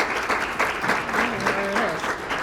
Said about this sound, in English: Let's give another big round of applause